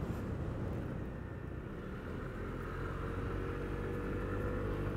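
A Lexmoto Aura 125cc scooter hums steadily under its rider, a continuous close engine drone mixed with broadband road and wind noise for the whole stretch.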